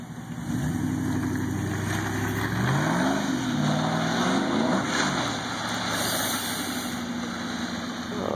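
A car engine revving hard in rising and falling sweeps while the driver tries to hold a drift, loud, close and continuous throughout.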